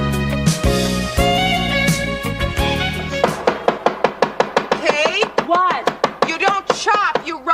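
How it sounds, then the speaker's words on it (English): Knife chopping food in a sitcom kitchen scene, a quick run of sharp, evenly spaced chops close by, mixed with voices and studio audience laughter. "if chopping comes more naturally to me than rocking, why can't I chop?"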